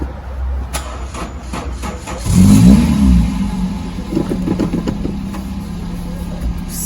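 A Toyota Etios car engine starts with a quick crank, catches and revs briefly, then settles into a steady low idle, heard close up from inside the car with no one speaking.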